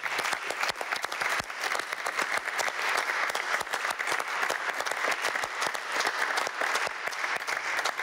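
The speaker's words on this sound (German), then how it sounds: "euch noch einmal einen riesigen Applaus für diesen heutigen Vormittag" Sustained, dense applause from an audience at a farewell session of the Conference on the Future of Europe in the German Bundesrat, steady and full throughout with no talking over it.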